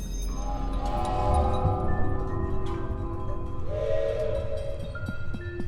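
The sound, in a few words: train cart in a video game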